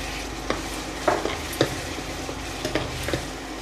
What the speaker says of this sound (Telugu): ఈ ఉల్లిపాయ పేస్ట్ కొద్దిగా వేగిన తరువాత 4 చిన్న పచ్చిమిరపకాయలను ఈ విధంగా ఘాటు పెట్టుకుని వేసుకోవాలి.